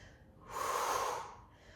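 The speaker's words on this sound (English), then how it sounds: "And again, breathing out" A person exhales one long, loud breath at close range during a floor exercise, a rushing breath that swells and fades alone.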